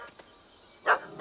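A dog in The Witcher 3 video game gives a couple of short, sharp barks near the end, after a few faint yips over a quiet background.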